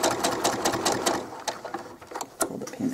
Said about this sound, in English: Be very careful that you're not sewing this part of your pants into this seam